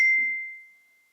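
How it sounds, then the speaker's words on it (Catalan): One bright text message notification tone chimes once up close and fades away over about a second, alone in a quiet room. "Una altra vegada el timbre del missatges."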